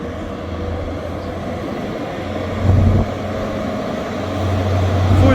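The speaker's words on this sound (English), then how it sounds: "Departing out now is the 1439 Scotrail service from Glasgow Queen Street to Aberdeen" A Scotrail service pulling out of Montrose station, a steady low diesel rumble with rising engine throb that swells midway and again toward the end, close by and continuous.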